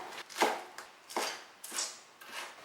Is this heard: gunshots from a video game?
no